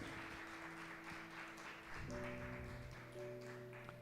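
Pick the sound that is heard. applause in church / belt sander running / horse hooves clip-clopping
applause in church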